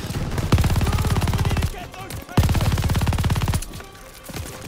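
An MG42 light machine gun in Call of Duty Vanguard fires two loud sustained bursts of rapid automatic shots, each about a second long, separated by a short gap.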